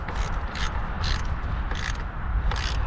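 A battery terminal nut on an Infiniti QX80 being tightened by hand, with a steady run of close mechanical ratcheting and creaking broken by short, sharp metallic clicks, and no talk.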